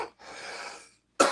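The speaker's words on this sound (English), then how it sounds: "much cleaner cough." A single harsh cough after smoking, breathy and close, fading out before a sharper burst of coughing or throat noise.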